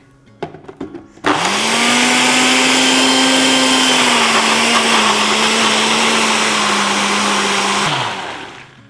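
Blender whirring loudly through a vegan chocolate mint cheesecake filling, a steady motor drone with a sustained low hum, starting abruptly after a few clicks and running about seven seconds before winding down.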